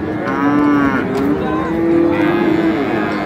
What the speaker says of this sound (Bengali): চমৎকার একটি ষাঁড় গরু।